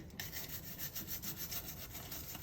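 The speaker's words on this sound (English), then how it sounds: "we're going to give this lobster tail a good scrub" A lobster tail scrubbed in cold salted water, heard as a steady, close, rhythmic scrubbing rasp that continues without a break.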